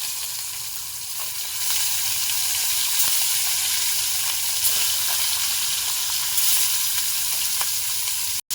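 Boroli fish frying in mustard oil in a kadai, giving a steady, close, dense sizzling hiss that holds evenly throughout with faint pops.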